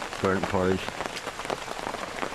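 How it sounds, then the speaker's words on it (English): Steady rain patters on surfaces in the rainforest, a dense close hiss of drops continuing throughout while someone speaks briefly at the start. "The rain's eased off a bit."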